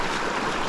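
A tiny mountain creek rushes steadily nearby, giving a constant, even wash of flowing water with no voices.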